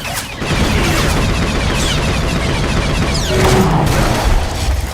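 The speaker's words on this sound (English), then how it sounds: "Enough! Open fire!" Star Wars: The Old Republic firefight with continuous blaster gunfire, loud and close, a dense unbroken volley that holds steady for several seconds with sharper crackling shots layered on top.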